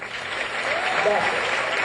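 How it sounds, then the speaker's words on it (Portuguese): An audience at a university lecture gives an opening round of applause for the candidate. The clapping forms a soft, blended patter that builds slightly and stays moderate in level, with a faint voice underneath. "Eu queria pedir uma salva de palmas inicial para o candidato"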